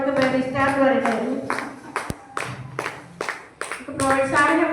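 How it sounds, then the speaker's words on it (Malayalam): Audience clapping at a business gathering, a few sharp handclaps and short scattered bursts of applause, fairly close, with talk between them. "അത് നല്ല കയ്യടി ആയിക്കോട്ടെ"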